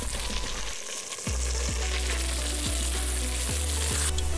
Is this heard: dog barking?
no